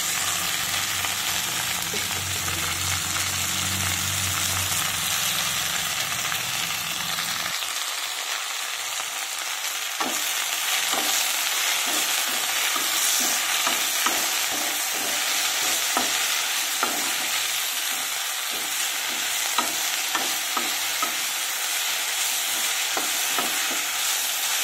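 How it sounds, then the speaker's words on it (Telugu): Red sorrel leaves cook in a pan, sizzling steadily while a utensil scrapes and stirs in repeated strokes, with a low rumble early on that drops away midway. "ముందుగా మెత్తగా ఉడికించేసుకోవాలి గోంగూర"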